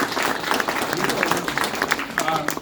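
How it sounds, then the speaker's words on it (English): Audience applause at a museum annual meeting presentation, a steady wash of clapping from a seated crowd lasting a few seconds with a faint voice underneath. "That deserves a round of applause."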